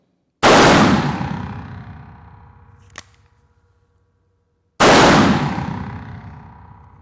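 Two loud, close blasts from a Taurus Judge Home Defender revolver at an indoor range, spaced about four seconds apart, each with a long ringing decay and a small metallic click between them.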